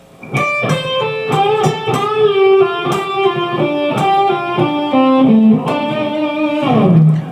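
A distorted electric guitar plays a lick from a solo, slowly: quick picked notes and bends, ending on a held, sliding note, clear with no talking.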